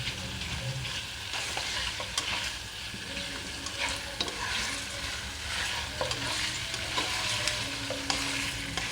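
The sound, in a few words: chicken frying in oil for karahi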